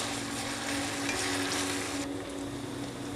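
Spiced masala mixed with ketchup frying in a pan for Kerala-style chicken roast, a continuous close sizzle with occasional stirring, alone without voices.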